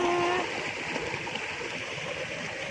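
A river stream flows steadily nearby, a constant close rushing and gurgling wash of water with a brief faint tonal sound at the very start.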